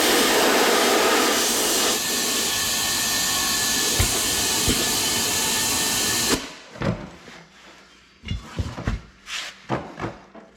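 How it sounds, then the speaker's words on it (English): Compressed air from a large compressor roars loudly into a tractor tire valve with its core removed, a steady hiss for about six seconds that cuts off abruptly, followed by scattered clunks and knocks. "Apply copious amounts of air from large air compressor."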